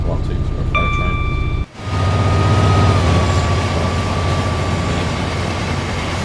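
A freight train engine runs in Train Sim World 5 on the West Coast Main Line, a loud steady diesel drone with a brief dropout and a tonal whine before it resumes.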